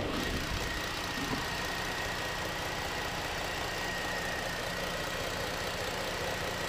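A 2012 Ford Edge engine idling smoothly, a steady, even hum with a constant broadband drone and a faint high whine, heard up close without any talk.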